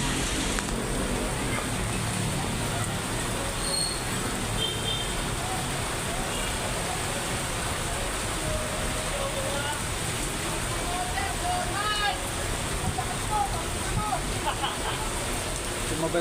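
Constant downpour hisses steadily, with faint scattered background sounds mixed into the dense rain noise.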